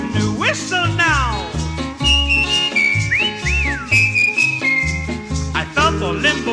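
Melodic whistling glides over a steady musical backing, bright and prominent throughout.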